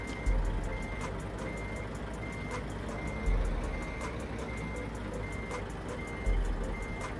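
Reversing alarm fitted to a Volvo FH12 truck in the Euro Truck Simulator 2 game, a steady beep repeating about once a second over a continuous low engine rumble, with no talking.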